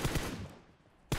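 Bursts of video-game gunfire in PUBG Mobile, two loud shots near the start fading into a decaying echo, then another sharp shot cracking out at the very end.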